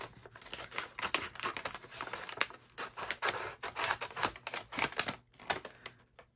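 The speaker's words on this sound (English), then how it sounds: "So I'm going to cut it right down here." Scissors cut through paper for a junk journal page, producing a dense, continuous run of crisp snipping and rustling clicks up close, with a brief pause before the final cuts trail off.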